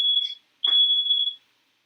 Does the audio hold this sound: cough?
no